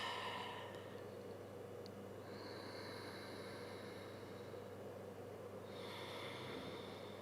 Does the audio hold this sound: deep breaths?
yes